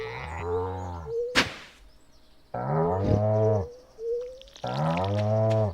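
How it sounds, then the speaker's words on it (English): Cows in the farming video game Stardew Valley give three drawn-out, loud moos separated by short gaps, with a brief click between the first two. "Oh, shush. Shush, cows."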